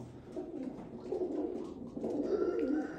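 Teddy pigeons at a breeder setup cooing in soft, repeated low rolling calls, several birds overlapping at close range over quiet background.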